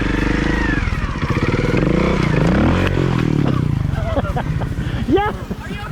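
A motorcycle engine idles and revs with a steady throbbing rumble and rising pitch sweeps, close and loud, at the end of a two-week riding trip, with some clatter near the end.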